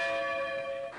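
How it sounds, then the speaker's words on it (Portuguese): Church bells tolling in Florianópolis for the death of Pope John Paul II, a sustained ringing tone with a fresh strike near the end, moderately distant and alone. "Em Florianópolis, os sinos dobraram pela alma do pontífice."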